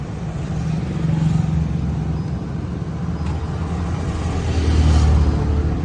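A Hyundai i20 diesel car starts up by push button, its engine settling into a steady, close idle rumble that swells slightly near the end.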